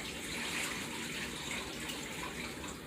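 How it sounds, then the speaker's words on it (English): Four cups of water pour steadily into a cooking pot with bay leaves and garlic, a continuous close splashing gush with no talking over it. "You take 4 cups of water. Pour it in there."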